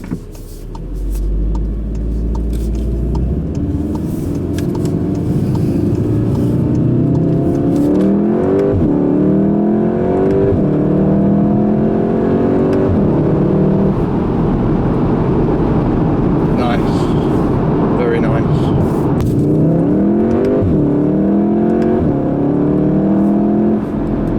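A 2016 Volkswagen Golf R with a DSG gearbox accelerating in sport mode, its engine note rising through repeated upshifts in loud, close sweeping pulls, with a voice speaking over part of it.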